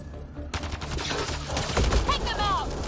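Gunshots in a video game: after a short quiet lead-in, a sustained, loud barrage of overlapping shots and automatic fire continues without pause to the end.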